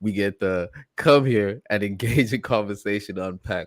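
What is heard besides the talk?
No everyday noises stand out.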